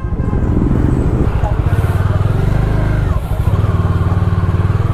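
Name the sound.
motorcycle engine on the road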